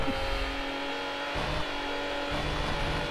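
A Porsche engine revving continuously in the racing video game Need for Speed Hot Pursuit 2, a steady droning growl with slight pitch shifts as the car accelerates, fairly quiet in the mix.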